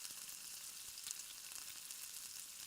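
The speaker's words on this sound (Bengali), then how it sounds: "অনেকক্ষণ পর্যন্ত এটা জাল দিতে হয়, পানিটা শুকিয়ে না আসা পর্যন্ত এটা অনবরত নাড়তে হবে।" Salted hilsa fish mash sizzles steadily as it fries in oil and is stirred continuously in the pan, a soft, even hiss with faint scraping and no voices.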